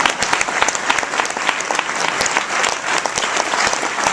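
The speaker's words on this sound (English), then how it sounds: "yeah, you can applaud that" Dense, loud audience applause fills a seminar hall, with many hands clapping in a steady, crowded wash and frequent sharp individual claps standing out, continuous throughout.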